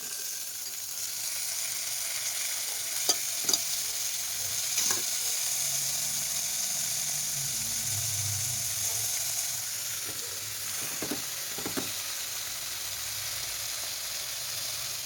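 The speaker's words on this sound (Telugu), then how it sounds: "ఇవి వేగనిద్దాం చూడండి మగ్గిపోయినాయి ఇప్పుడు తోటకూర పెట్టేసుకుందాం" Amaranth leaves fry in a pan at home, a steady low sizzle running throughout with occasional scraping clicks from stirring, no voices.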